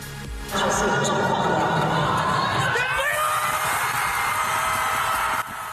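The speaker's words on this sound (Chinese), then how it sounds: "伫咧确定拍赢迄一刻，现场是欢声雷动，大家欢呼叽叽叫" A large crowd in the main hall of Taipei Main Station erupts at a gold-medal badminton win, a sudden loud roar of cheering, whooping and shouting that swells abruptly and holds steady, with voices mixed in.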